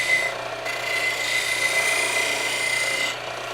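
A skew chisel cuts on a wood lathe while sleeving an Echo pen insert, a steady close rasping hiss over the lathe's constant hum.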